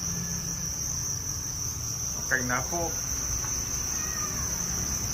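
Crickets in a cardboard-lined farming box keep up a shrill, unbroken chirping drone, loud and close, while someone speaks briefly in the middle.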